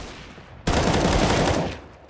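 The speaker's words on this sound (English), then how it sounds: "Still has his trusty Deagle and will be a little bit sneaky. Hits a couple of shots onto Exist" Gunfire in Counter-Strike on the Cache map during a professional match: a sudden loud burst of rapid shots starting abruptly and ringing out for over a second before fading.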